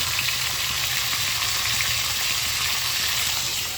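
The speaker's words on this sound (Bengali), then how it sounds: "এখন মাছগুলো কড়াইতে দিয়ে দিই ভাজা করার জন্য।" Large fish pieces, including big heads, sizzle and fry in a wok, a loud, steady crackling hiss that carries on without talk.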